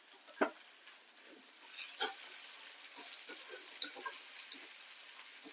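Onions with curry leaves and salt fry in a pan for egg chutney. A soft, steady sizzle is broken by scattered sharp spatula scrapes and taps, with no talking.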